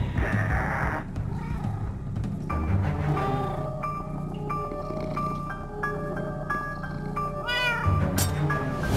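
A cat meows repeatedly in Minecraft Story Mode, a series of loud, drawn-out and rising cries with a few short caterwauling calls, over a busy game soundtrack.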